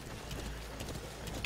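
D-Horse gallops in the video game Metal Gear Solid V, a faint rapid clip-clop of hooves running steadily, soft and distant under a quiet game soundscape.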